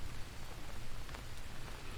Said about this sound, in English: obviously it's raining at the moment.